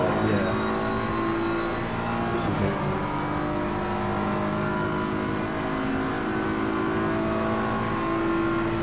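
Race car engine in Assetto Corsa Competizione drones steadily at high revs throughout, a continuous loud whine with no clear gear changes.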